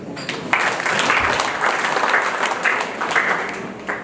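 A crowd at a wedding dowry ceremony claps, a dense, steady burst of applause that starts quickly, holds for several seconds and stays close and lively.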